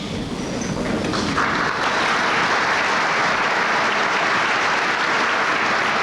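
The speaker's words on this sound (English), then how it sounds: "you can applaud all the way through" Steady, dense applause from a banquet audience greeting honored guests at a sports hall of fame dinner and induction, building within the first second and then holding full and loud throughout.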